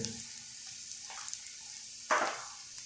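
Onions with ginger, garlic and chili paste frying, a faint steady sizzle with a couple of louder stirring scrapes, the sharpest near the end.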